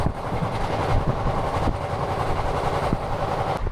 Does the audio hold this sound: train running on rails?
yes